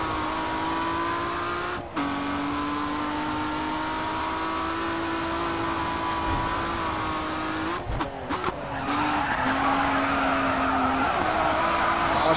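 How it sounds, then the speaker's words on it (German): A car drifting around a corner in a night racing game, engine droning steadily with a rising whine as tyres squeal and skid, then a brief pause before the engine surges louder again. "Ah, schön um die Kurve gedriftet"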